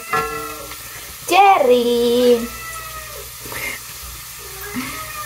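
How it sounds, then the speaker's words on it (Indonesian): A pet cat meows pleadingly to be let outside in a home kitchen where garlic is being fried, the drawn-out cry rising loud and close and followed by softer mews, with a faint sizzle beneath. "Kucingnya mau keluar, mau main dia, ya Jerry. Merayu-rayu dia"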